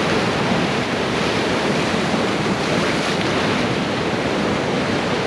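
Ocean surf pounds the Bodega Bay coastline on California's shore in a steady, dense roar of breaking waves, with wind buffeting the microphone throughout and no voices.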